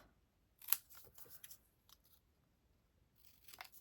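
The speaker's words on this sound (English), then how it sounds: "Okay, so I can just trim this off." Scissors trim the paper border off a handmade Stampin' Up card in a few quiet, separate snips and cuts with short pauses between them, close to the mic in a still room.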